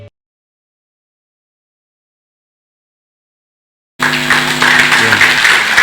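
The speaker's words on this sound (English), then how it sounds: "thank you for that applause" Following about four seconds of silence, conference audience applause at WCC 2023 in Dubai bursts in abruptly and keeps up as loud, dense clapping with some faint tonal sound under it.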